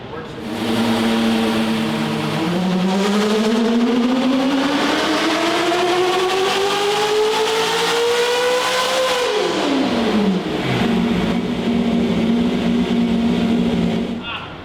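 The engine of a manual C8 Corvette drift car strapped to a dyno climbs smoothly in pitch for several seconds, then drops back and holds a steady rev, loud and close throughout.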